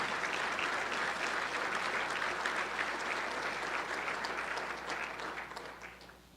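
Audience applause at a regional leaders retreat, a dense, even wash of many hands clapping that holds steady and then fades toward the end.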